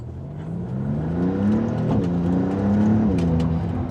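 A Maserati MC20 V6 engine accelerates on a test drive, its exhaust note rising steadily through several gears, with rising pitch sweeps and a brief shift dip, moderately loud and close with no talking.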